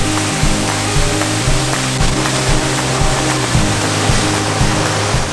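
Waterfall on a hiking trail in Glacier National Park, a steady broadband roar of falling water that stays loud and constant throughout, with no voices.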